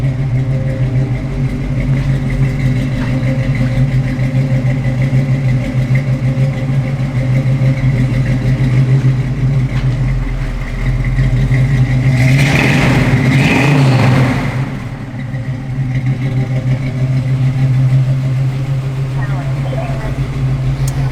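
A 1963 Chevrolet Nova II SS engine idles steadily with a low hum, briefly revving louder in the middle before settling back; a voice talks over it.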